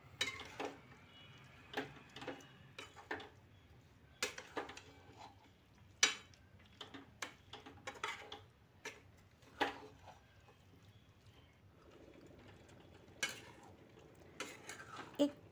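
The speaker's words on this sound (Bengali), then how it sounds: "ভালো করে গুড় আর নারকেল মিশিয়ে নিতে হবে" Jaggery and coconut being stirred in a pan over low heat, with irregular scraping clinks of a spoon against the metal pan coming in quick bursts, fairly quiet and close.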